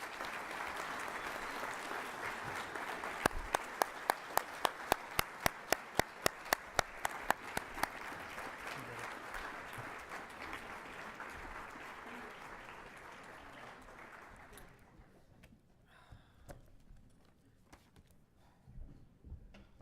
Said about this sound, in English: please another hand of applause